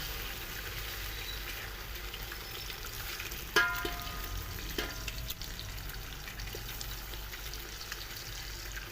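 Eggs frying with rice in a pan give a steady, soft, continuous sizzle, with a couple of brief utensil clinks partway through. No voices are heard.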